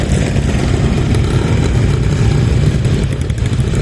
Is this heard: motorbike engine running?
yes